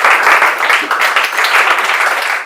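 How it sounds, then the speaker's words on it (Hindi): A loud audience claps vigorously for a student at a Class 10 board results celebration, a close, dense burst of applause with an uneven rhythm that carries on steadily throughout. "इनके लिए आप लोग जोरदार ताली"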